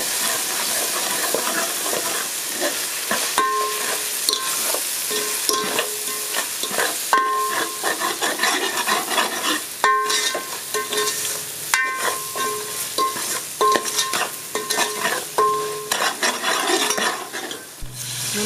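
Chili powder and salt being stirred into spices for an Andhra-style Nellore fish curry, a steady scraping and mixing with repeated light metallic taps and a faint sizzle throughout, with no voices.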